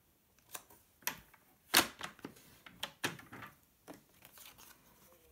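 A paper trimmer slicing strips of card, a series of crisp separate cuts and clicks spread over several seconds, quiet and close with short gaps between.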